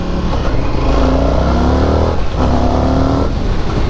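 A 2024 Indian FTR R Carbon motorcycle engine revs hard on a test ride, loud and close, climbing in pitch through gears with a brief dip between pulls over steady road and wind roar.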